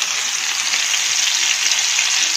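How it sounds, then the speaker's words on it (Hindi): Fish dusted with a little flour frying in a small amount of oil on a tawa griddle, a loud, steady hiss of sizzling that holds without a break for the whole stretch. "तवे पे मैंने डाला है थोड़ा सा ऑयल, तो इस पर हम डालेंगे फ़िश को"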